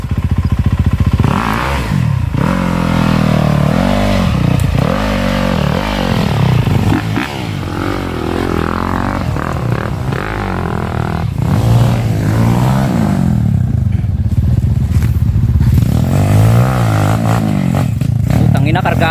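A motorcycle engine runs steadily and close, with clattering and rattling from a bumpy ride, while people talk over it.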